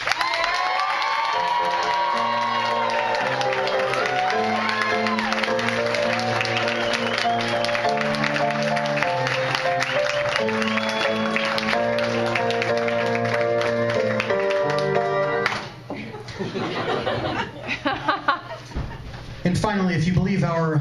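Music plays on a game show, then it cuts off and a studio audience breaks into applause and cheering for the last few seconds. The crowd noise is bursty and fairly loud.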